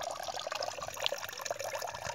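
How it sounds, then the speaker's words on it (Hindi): Water overflowing on its own from a tubewell, without a pump, a continuous close-up bubbling trickle and splash of flowing water with small drips, steady and moderately loud, without voices. "चारों तरफ पानी ही पानी अपने आप निकल रहा है, कोई छुआ भी नहीं है, अपने आप ओवरफ्लो हो रहा है पानी देखिए।"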